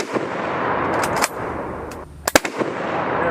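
A rifle shot from a Mosin Nagant or Mauser firing a batch of surplus ammunition: one sharp, loud crack followed by a quick burst of echoing reports, over steady outdoor background noise.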